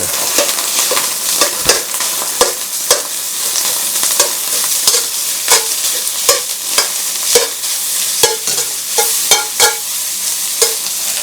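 Cold overnight cooked rice frying in a pan for mushroom fried rice, loud continuous sizzling broken by repeated sharp scrapes and clacks of a utensil tossing the rice, close-up and without speech.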